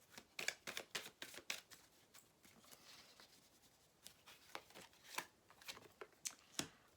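Tarot cards being shuffled by hand, a rapid run of crisp riffling snaps and papery flicks in an irregular rhythm, close and fairly quiet, with no talk.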